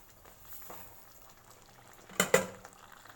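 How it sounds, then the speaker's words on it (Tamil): Water boiling in a cooking pot for vegetable kichadi: a quiet, steady bubbling, broken near the end by a brief, louder clatter. "ஸோ பாருங்கள், பாயில் ஆகுது."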